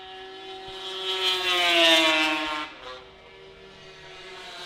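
Racing snowmobiles on a track at the Canadian Power Toboggan Championships, a high-pitched engine whine that swells as a sled passes close by, peaks, then drops away into a steadier distant drone.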